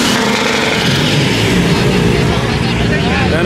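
A GTS sports car engine revs hard at a Cars & Coffee meet, a loud, dense, continuous roar filling the whole moment with no letup.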